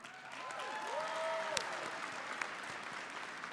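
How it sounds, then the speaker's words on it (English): Audience applause at a Conservative convention opening ceremony, a sustained, fairly distant wash of clapping across the hall with a few voices calling out over it. "Please join me in giving each of them a round of applause."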